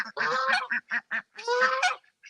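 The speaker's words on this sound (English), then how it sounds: "I wish our ducks would let me pick them up." Farm ducks honk and call in a rapid run of short, separate bursts, fairly close, with no voices.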